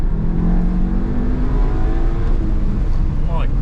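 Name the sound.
VW Golf Mk7 GTI engine revving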